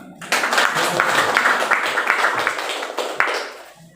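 A church congregation at a building dedication bursts into applause, a dense steady clatter of many hands that swells quickly and fades out after a few seconds.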